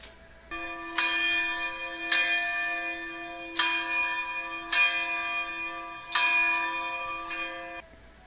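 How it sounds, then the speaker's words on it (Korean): A church bell tolls steadily, with several clear, ringing strikes spaced about a second apart, each note lingering and overlapping the next. "아침이 되자 교회 종소리가 울려 퍼졌어요."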